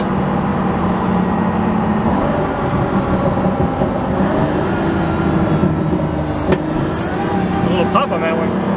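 A Pagani Huayra hypercar's engine drones steadily from inside the cabin, a loud sustained growl with a slight rise in pitch partway through, while people talk over it.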